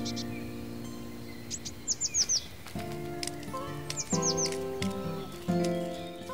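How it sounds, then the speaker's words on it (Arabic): Blue tits call from fir treetops in the Swiss Jura mountains, giving several short bursts of high, descending chirps in quick runs. Steady harmonic tones sit beneath them. "على قمم شجر الشوح تستعد طيور القرقف الأزرق للشتاء المقبل"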